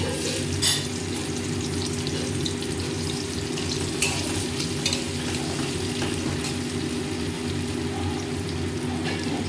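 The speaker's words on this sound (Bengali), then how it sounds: "ওই তেলের মধ্যে আমি পেঁয়াজটা দিয়ে দেবো।" Onions frying in hot oil after potatoes, for a mutton curry, with a steady close sizzle and occasional scrapes of stirring throughout, no talk.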